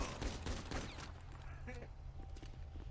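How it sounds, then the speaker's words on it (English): A burst of rapid gunfire rattles out early in a GTA roleplay game session, fading into a quieter background while a voice talks. "Yeah, I heard some gunshots there."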